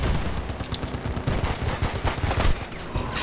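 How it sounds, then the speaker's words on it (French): Rapid, dense bursts of Saiga shotgun fire in Battlefield Bad Company 2, a loud, steady barrage of overlapping blasts with sharp cracks spread across the whole stretch. "Je lui ai tiré trois fois dessus dans le dos"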